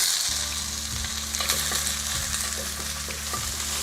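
Onion and carrot sizzle steadily in a hot pan, a continuous close frying hiss with occasional stirring scrapes and a low hum underneath.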